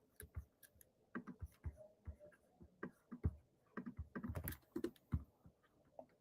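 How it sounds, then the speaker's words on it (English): Someone types on a computer keyboard during a data structures and algorithms lesson, with quick, irregular bursts of close, crisp key clicks and brief pauses between them. No voices are heard. "I'm going to type it in the chat."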